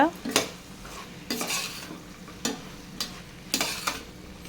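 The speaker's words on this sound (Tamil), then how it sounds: "இந்த மசாலா வந்து ஒரு அஞ்சுலேருந்து ஆறு நிமிஷம் நல்லா வதக்கி விட்டுக்கலாம்" Veg biryani masala is stirred in a hot pan. Loud scraping spoon strokes come every second or so over a steady, close sizzle, with no voices.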